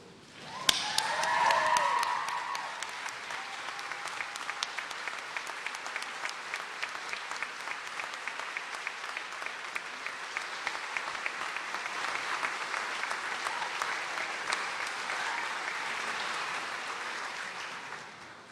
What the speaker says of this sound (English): please stand and give her a round of applause